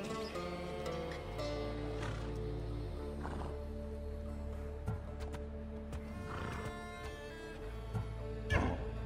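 Hades' horse Orphnaeus in Assassin's Creed Odyssey's Fate of Atlantis DLC, several whinnies and snorts rising above a constant low musical drone, moderately loud with no speech.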